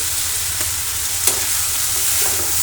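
Leafy greens stir-frying in a pan on a home kitchen stove give a steady, close sizzling hiss with a few faint scrapes and clicks from stirring, and no voices.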